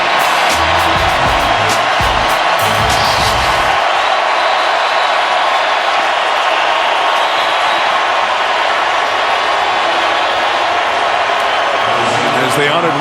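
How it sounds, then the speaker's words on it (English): A large Seattle stadium crowd roars and applauds for Wilson and the offense as they leave the field at a Saints vs Seahawks game, a dense sustained wash of cheering with an announcer talking over it. "a great hand from the Seattle fans for Wilson and the offense as they leave the field"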